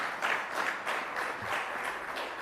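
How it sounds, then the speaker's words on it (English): A conference audience applauds panelists, steady moderate clapping from many hands in a hall, sustained evenly throughout with no talking over it. "Another round of applause to all panelists from this morning to the afternoon."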